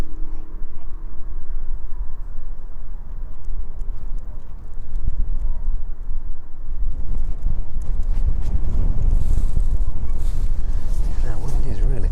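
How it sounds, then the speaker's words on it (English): Strong wind gusting across an open airport apron, a steady loud rush that swells and thickens toward the end, with a brief voice heard early on. "Now wind is really picking up now."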